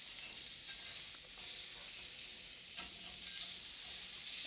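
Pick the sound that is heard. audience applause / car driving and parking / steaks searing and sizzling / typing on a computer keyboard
steaks searing and sizzling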